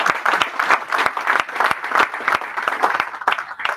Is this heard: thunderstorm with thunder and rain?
no